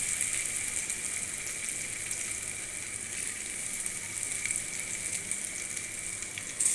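Kurkure chips sizzle steadily in hot ghee, with a continuous bright frying hiss that holds even and alone throughout, without pauses or talk.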